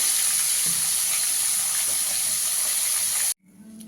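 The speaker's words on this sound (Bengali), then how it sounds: "এই তেলে আমি বেগুনটা ভেজে নেব।" Eggplant frying in mustard oil already used for fish: a steady, close, bright sizzle and hiss runs unbroken for a few seconds, then cuts off abruptly to a much quieter background.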